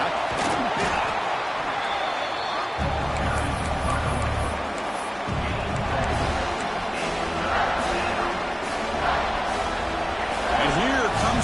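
A large stadium crowd at a Cal vs MSU football game roars in a continuous wash of noise during a red zone defensive stand, with scattered shouts and thumps throughout.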